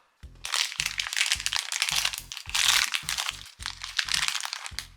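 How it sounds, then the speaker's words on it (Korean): Packaging of a tiger acne soap being unboxed, a close series of crackling, crinkling plastic and paper rustles in quick irregular bursts, loud and alone without talk. "언박싱을 해보도록 하겠습니다"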